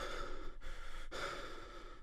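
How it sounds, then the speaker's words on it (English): A man's sharp breathy gasp, then a pause and another heavy intake of breath, close and fairly loud against a steady hiss. "As the door closes, Jon's eyes open wide and he gasps for breath."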